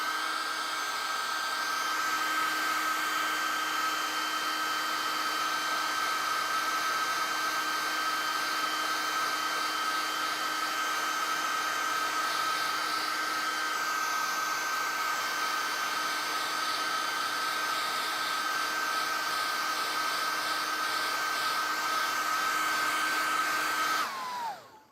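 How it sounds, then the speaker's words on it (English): A hairdryer blows hot air onto paint on a Phantom of the Opera miniature, a steady loud whirring hum with a constant whine that runs unbroken for about twenty-four seconds, then cuts off abruptly. "I'm going to hit this guy with the hairdryer so we can keep on moving."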